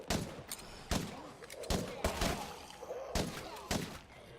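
Gunfire in the video game State of Decay 2, several sharp loud shots spaced irregularly across the stretch, each a hard broadband crack over a noisy in-game background.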